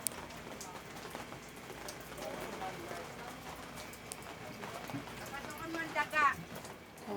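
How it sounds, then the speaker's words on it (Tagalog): Rain falls in Manila with a steady wash of drops pattering on surfaces, continuous and moderately loud, while voices talk faintly underneath. "Guys, umuulan na ngayon dito sa Maynila."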